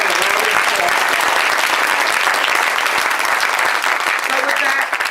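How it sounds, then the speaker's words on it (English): A community address audience giving a round of applause, dense sustained clapping from many hands filling a hall, loud and continuous, with faint voices underneath. "Give them those people a round of applause"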